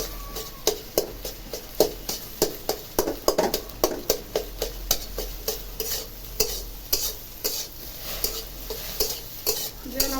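A pan of frying ingredients for an egg and jackfruit seed dal is stirred in a steady rhythm, each scrape sharp and close over a constant sizzle, about a dozen strokes.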